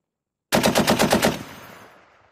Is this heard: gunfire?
yes